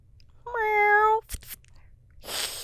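A person imitates a cat with a drawn-out, wavering meow, near and clear, followed by a short breathy sound and a soft exhale-like noise, with no other talk.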